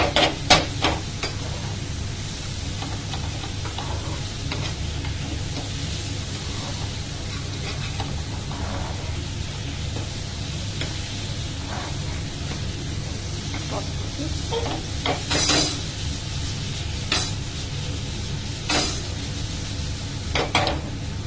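Green, red and yellow bell peppers and onion stir-frying in a pan with steady sizzle, scattered sharp clinks and scrapes of a utensil against the pan, and faint voice in the background.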